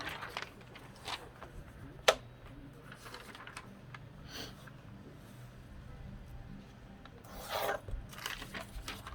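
Scissors cutting paper images out for a gluebook: faint, close rasping and rubbing snips at an uneven pace, with a sharper click near the start and a louder scraping burst toward the end, with low talk.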